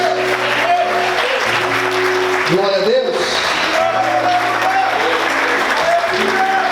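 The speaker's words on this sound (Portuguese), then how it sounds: "Você pode aplaudir o Senhor." Church congregation applauding during a sermon, sustained clapping under a pastor's voice as he speaks over it.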